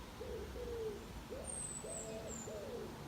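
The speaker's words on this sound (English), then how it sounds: "You hear the pigeons." Soft, repeated pigeon coos in a steady rhythm, a few hollow calls in a row against quiet outdoor background noise in the Cotswolds, England.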